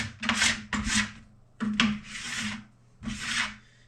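Plastic scraper pulled along a waxed ski base, four or five rhythmic rasping strokes in quick pairs with short pauses between, close and crisp with no voices.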